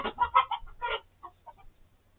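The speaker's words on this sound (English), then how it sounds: "that's just my chickens" Backyard chickens clucking in a quick, bright burst of calls, then a few softer scattered clucks trailing off, fairly close and heard alone over a low background rumble.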